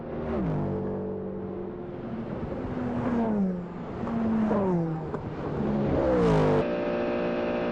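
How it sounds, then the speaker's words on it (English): A Mercedes race car at the 1999 Le Mans 24 Hours, heard on board approaching a chicane: a loud, close engine howls through gear changes, rising and dropping in pitch as it brakes and accelerates. "here we are on board in the second Mercedes with Christophe Bouchou coming up to the chicane"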